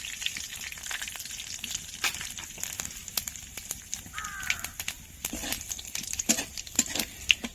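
Dried red chillies, a split bay leaf and whole cumin sizzle in hot oil for a Bengali chicken dish, a steady soft crackle dotted with sharp pops and clicks, close and unaccompanied by talk.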